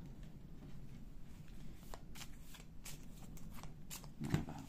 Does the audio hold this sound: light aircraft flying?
no